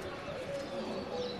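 Domestic pigeons coo in low, steady murmurs, with faint chirps above and light background noise.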